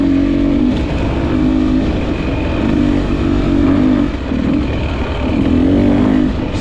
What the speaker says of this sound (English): I just wanted to give the engine a little bit of a test run there.